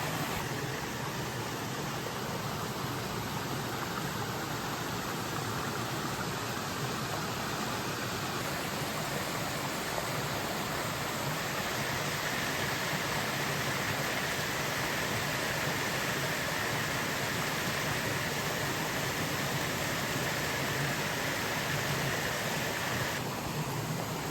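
A waterfall tumbling over rocks in a lush natural setting, heard as a steady, dense broadband rush of falling water that holds unbroken and fairly loud throughout, with no voices over it.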